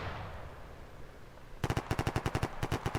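Automatic gunfire in the military video game Arma 3, beginning midway as a rapid rhythmic burst of about a dozen close, sharp shots after a stretch of low background rumble.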